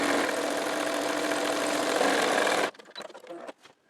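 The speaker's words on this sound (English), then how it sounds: "And I am going to stitch, just edge stitch it" Sewing machine edge stitching a chenille pillow: a steady, fast mechanical whir running continuously for a couple of seconds, then stopping abruptly, followed by a few faint handling clicks and rustles in quiet.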